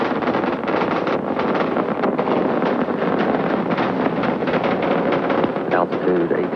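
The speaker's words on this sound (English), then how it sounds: "3 main engines up and running." The three main engines of Space Shuttle Columbia roar at liftoff on the STS-28 launch: a steady, loud, crackling wall of broadband rumble that never lets up.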